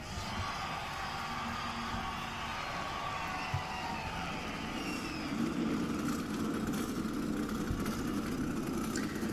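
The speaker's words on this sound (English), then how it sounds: "Gentlemen, start your engines." Several NASCAR stock car engines fire up and idle together at the 2001 Dodge/Save-Mart 350 at Sonoma, a steady, loud, dense rumble that holds for the whole stretch and swells slightly toward the end.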